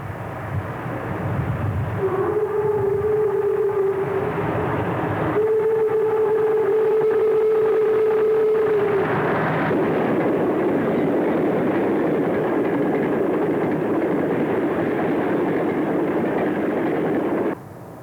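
Virginian Railway AG-class locomotive 907 powers a westbound extra west of Kilby in July 1950, sounding a loud sustained whistle in two long blasts before a heavy, steady rumble of the passing train fills the rest.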